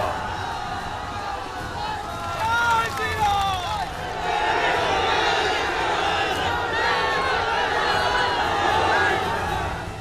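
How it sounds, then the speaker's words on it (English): A large crowd in Bankura, West Bengal, cheers and shouts for Prime Minister Narendra Modi on his way to a rally ground, a dense continuous roar with rising whistles and yells, steady and fairly loud throughout. "Crowds cheering on Prime Minister Narendra Modi in Bankura, West Bengal, as he headed to the rally ground."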